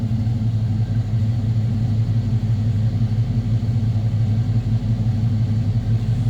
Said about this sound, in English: Just a nice throaty exhaust note with those MagnaFlows.